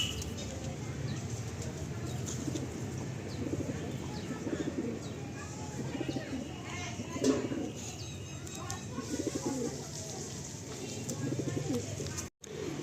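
Mawali pigeons coo in soft, repeated low pulses throughout a pigeon sale, mixed with chirps and occasional wing flutters while people talk in the background.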